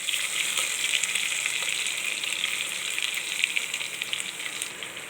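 Onion frying in a pan alongside cumin, curry leaves and dried chillies, a dense bright hiss of sizzling oil heard close and steady, with faint stirring ticks and no talking.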